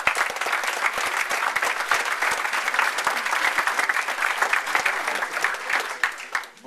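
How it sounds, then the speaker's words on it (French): Applause at an HTML5 developer meetup, a lively room of hands clapping steadily with distinct individual claps popping through, tapering off near the end without anyone speaking. "Je pense qu'on peut l'applaudir."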